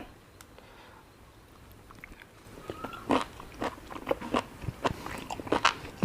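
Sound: eating sweet liver with wasabi sauce

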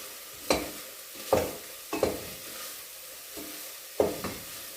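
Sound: stirring meat with grated onion and tomato

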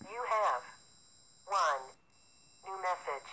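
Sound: phone call on answering machine in Five Nights at Candy's video game

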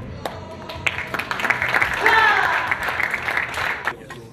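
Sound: audience applause after taekwondo board breaking

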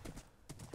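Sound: horse hooves clip-clop in Minecraft video game

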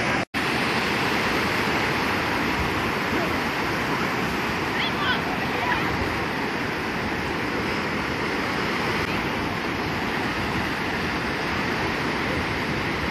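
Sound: sea waves at the beach

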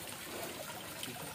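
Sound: water flowing from a spout into a stone tank

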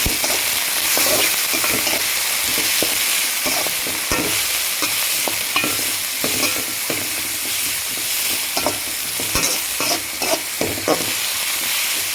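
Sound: sautéing coriander, onion and cabbage with egg in pan

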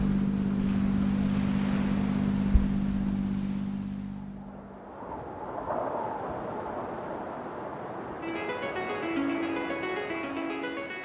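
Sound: sailing boat motoring with engine on

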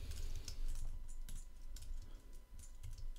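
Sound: typing on a computer keyboard

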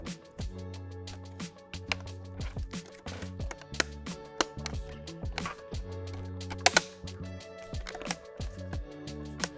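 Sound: Mac Mini bottom cover clips clicking into place

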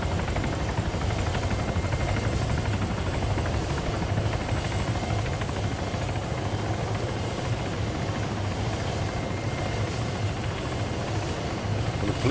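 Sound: helicopter flying in a video game (Arma 3 Altis Life)

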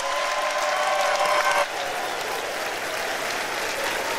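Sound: applause as the President enters the room

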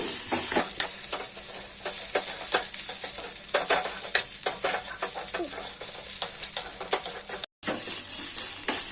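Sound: banana flower stir-fry being mixed in oil

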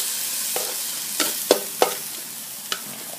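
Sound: stir-frying nam prik ong in a pan with little oil

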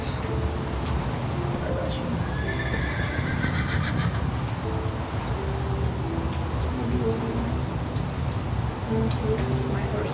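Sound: horse neighing and hooves in Minecraft video game

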